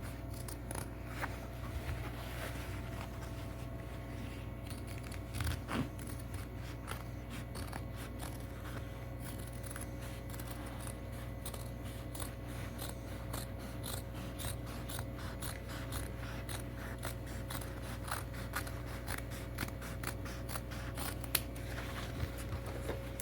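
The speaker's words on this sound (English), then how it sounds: "So I'm just cutting off most of that material." Scissors snip off fraying drop cloth fabric in a quiet room, a long series of close, crisp clicking cuts in irregular rhythm over a low steady hum.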